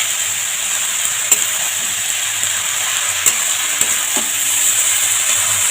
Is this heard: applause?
no